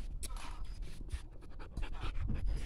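A dog pants rapidly and steadily close to the microphone, its quick breaths continuing for a few seconds over low rumbling background noise.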